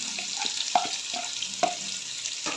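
Onions added to hot oil in a pan sizzle softly and steadily, with faint clinks and stirring scrapes scattered through the frying.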